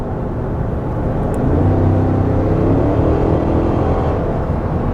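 A Cadillac Escalade ESV with a 426-horsepower engine hums and rumbles steadily from inside the cabin, a loud, continuous low drone that rises slightly in the middle without sharp revs.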